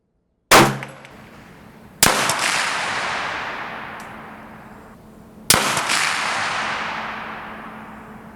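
Rifle shots on an outdoor range using military surplus sights at an 800-meter setting: loud, sharp cracks, each followed by a long rolling echo that fades over several seconds. There are three reports in all, with no speech between them.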